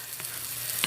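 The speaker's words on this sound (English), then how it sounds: "the eggs are starting to scramble up" Eggs scrambling in a pan give a soft, steady sizzle with a few brief scraping stirs, close and fairly quiet, with no talking.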